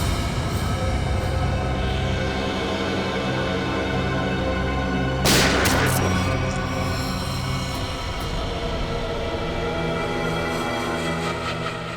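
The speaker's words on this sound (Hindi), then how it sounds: "दया गोली चलाओ उस पर, चलाओ गोली, चलाओ गोली।" A single loud gunshot cracks out midway through a Hindi TV crime drama scene, standing out briefly over a steady droning music bed.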